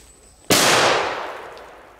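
A Crazy Bulldog firecracker goes off from about two metres away, one sharp, loud bang followed by a long, fading echo that trails away over more than a second.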